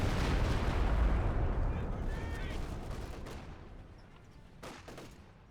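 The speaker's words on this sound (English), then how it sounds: "Stuka coming in to hit the Soviet player." In Company of Heroes 2, a Stuka dive bomber strike lands on Soviet positions as a loud, rumbling barrage of explosions and gunfire that gradually fades, with a few sharp blasts trailing toward the end.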